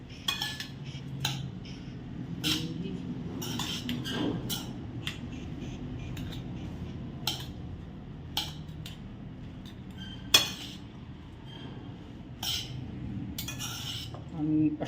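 Bhel being mixed with raw mango, spoon and utensil clinks ringing out in a steady series of sharp taps against a bowl over low room noise, with no talk.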